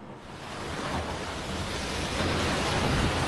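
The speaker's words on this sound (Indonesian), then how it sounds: "Kamera amatir warga merekam saat hujan deras dan angin kencang menerjang satu persatu lumbung dan tongkonan Karatuan hingga ambruk." Heavy rain and strong wind lashing the Sangala Utara district of Tana Toraja, South Sulawesi, as a dense, steady roar of wind-driven rain that swells louder toward the end, with no voices.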